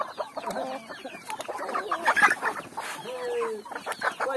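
A hen clucks repeatedly while laying an egg in a farmyard, with other chickens calling around her in a busy, steady stream of close clucks and squawks.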